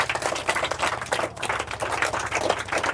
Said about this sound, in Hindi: उसके लिए भी जोरदार ताली होना चाहिए।